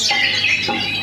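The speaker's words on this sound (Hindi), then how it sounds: "ये चिड़ियों का चहचहाना" Bright, high bird chirps and tweets in quick succession, fairly close, with a faint steady hum underneath.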